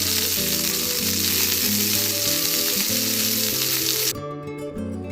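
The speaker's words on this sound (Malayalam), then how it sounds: "ഇവിടെ ഞാൻ 2 സെറ്റായിട്ടാണ് ഇത് വറുത്ത് കോരുന്നത്." Marinated chicken pieces deep fry in hot oil, a loud continuous crackling sizzle with steady bubbling, easing slightly near the end, and no one speaking.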